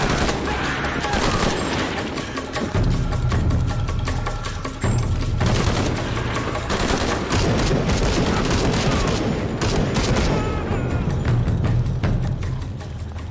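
Dense, loud incendiary-ammo gunfire in Shadow of the Tomb Raider, continuous overlapping shots and booms filling the whole stretch with a few brief dips in intensity.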